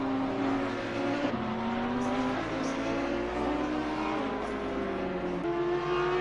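Onboard engine of the number 8 Porsche race car at Imola, loud and steady with pitch climbing through the gears and dropping at shifts, continuous throughout.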